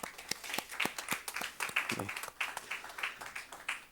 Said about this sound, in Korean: 미리 감사하는 박수를 한번 치도록 하겠습니다